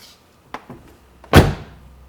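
A car door eased open by its handle, working through its check strap stops with a couple of faint clicks followed by one loud solid thunk, close by in a workshop.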